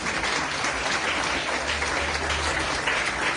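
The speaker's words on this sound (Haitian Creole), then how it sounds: "Je demande à l'assistance d'applaudir chaudement les parents." An audience claps warmly and steadily at a ceremony honouring parents, a dense, sustained burst of applause with no talking.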